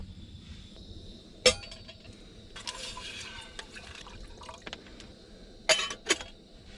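Water pours and trickles quietly at a truck campsite while supper is made, with a few sharp clinks of containers in between.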